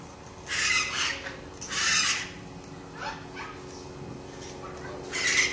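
Puppies whimper and yip in short bursts, close and fairly loud, with gaps of quieter background between the cries and no speech.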